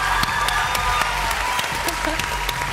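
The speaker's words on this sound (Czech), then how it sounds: "Jeden obrovský potlesk pre nich," A studio audience at a televised X Factor final applauds steadily, with crisp, rapid claps forming a continuous wash over a low musical hum, and voices faintly present.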